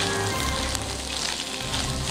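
Food sizzles loudly and continuously in a pan at a wild campsite in Jincheon, North Chungcheong, Korea: a dense, close crackling hiss throughout, with no talking.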